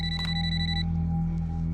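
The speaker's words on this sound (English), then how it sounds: "she receives an unexpected phone call." A telephone rings with a bright electronic trill, one short burst that cuts off partway, leaving a low background hum, close and clear with no talk.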